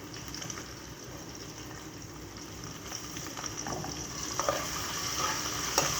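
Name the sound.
ginger sautéing with fried onions in a pan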